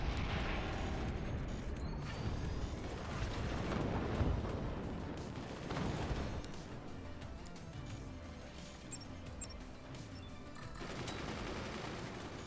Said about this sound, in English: We're going for a couple of surprise heavy mortars.